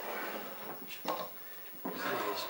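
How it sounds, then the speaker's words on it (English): Felt-lined drawers of a wooden Gerstner-style tool chest with a fresh finish, slid in and out twice, each pull a short wooden scrape and thump against a quiet room. "The drawers are getting easier to pull in and out as the finish dries."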